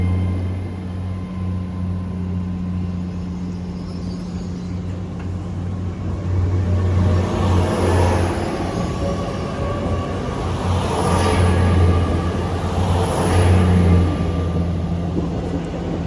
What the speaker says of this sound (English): departing out now is the 10:47 Great Western Railway service from London Paddington to Penzance